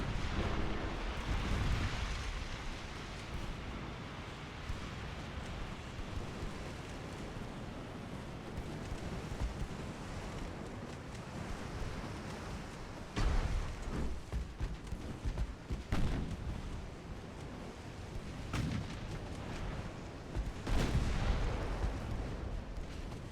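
Warship guns firing high-explosive shells in Ultimate Admiral: Dreadnoughts, a steady rumbling naval battle with several heavy booming salvos breaking through, sharper blasts around the middle and near the end.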